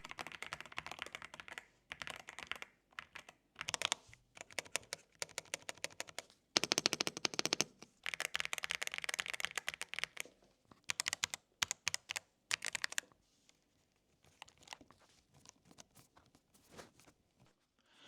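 Typing on a gasket-mount mechanical keyboard with factory switches: dense, fast bursts of crisp keystrokes up close, with brief pauses, thinning to sparse taps toward the end.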